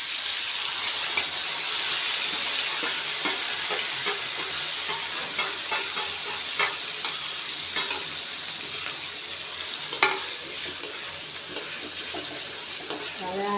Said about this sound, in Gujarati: હવે આપણે તેમાં આદુ મરચાં અને ટમેટાં નાખીશું